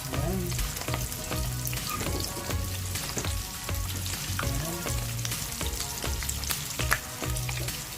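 Batch of chicken pieces deep frying in cooking oil for a birthday celebration, a continuous close crackling sizzle with scattered pops and occasional stirring scrapes, no voices.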